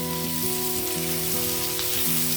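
Onions, green chillies, curry leaves and ginger garlic paste frying in a pan for a chicken curry, a steady sizzle heard under a constant tonal hum, with no talk.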